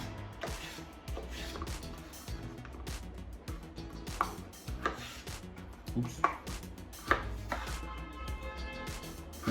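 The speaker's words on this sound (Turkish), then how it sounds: "Ya soğan kesmek zevkli ya." Onion being chopped with a Pirge Ecco chef's knife, close and crisp, with a fast, slightly uneven run of sharp blade strikes landing on a board.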